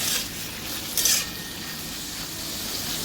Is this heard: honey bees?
no